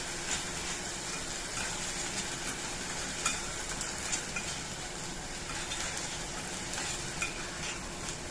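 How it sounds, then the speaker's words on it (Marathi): Tomato paste sautéing in oil with onion for a coriander-vadi curry, a continuous soft sizzle with faint stirring clicks throughout. "टमाट्याची पेस्ट पण आपण परतून घेऊया"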